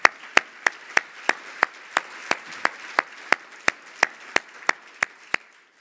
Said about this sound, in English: Let's huge round of applause for Alan and the entire team.